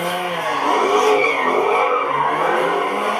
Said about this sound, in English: dozens of cars did burnouts in this intersection behind me